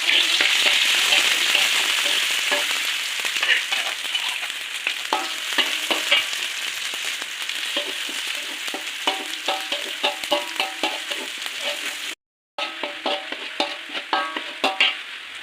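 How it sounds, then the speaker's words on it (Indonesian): Pieces of chicken, seasoned and pre-cooked, sizzle loudly in hot oil, a dense crackling hiss that eases slightly over time, with occasional scrapes and stirring clatter. "kita masukkan ayam minyak goreng."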